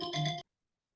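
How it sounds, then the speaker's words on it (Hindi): A phone ringtone sounds for an incoming call during a Hindi grammar lesson, a short bright melodic burst that stops abruptly after under half a second, close and clear with no talk over it. "सर का फोन आ रहा है।"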